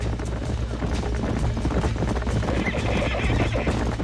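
Horses in the Red Dead Redemption video game whinny and neigh over a steady clatter of galloping hooves, loud and close throughout, with a low rumbling game soundscape underneath.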